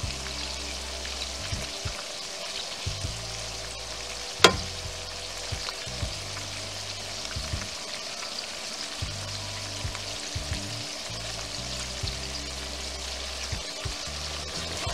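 Shrimp and garlic seasoned with salt, pepper and paprika sizzle steadily in oil, with a constant crackling hiss, occasional scraping stirs and one sharp clink partway through.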